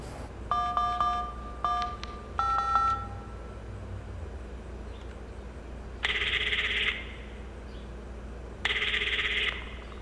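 Phone dialing in Five Nights at Freddy's Into the Pit: three bursts of dial tones in quick succession, then a pause before two longer ringing tones spaced a few seconds apart, over a low steady hum.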